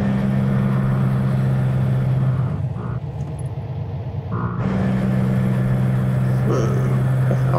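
A truck in the video game American Truck Simulator accelerates on an open road toward Las Vegas. The engine drone is steady and moderately loud, dips briefly in the middle, then resumes at full strength.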